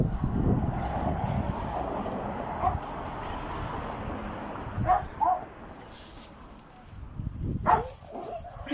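A dog outside in a cold garden, trying to get in from a neighbouring property, gives a few short yips and whimpers against steady outdoor noise, with louder bursts near the end.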